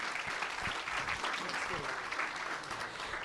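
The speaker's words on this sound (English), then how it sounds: "Please join me in a round of applause for them." Luncheon audience at a chamber of commerce infrastructure event applauding, a steady moderate wash of clapping with a few nearer claps standing out, and faint voices mixed in.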